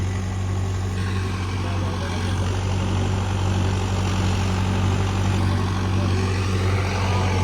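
A tractor engine idles steadily with a deep, constant throb close by, droning without change for several seconds and no talking.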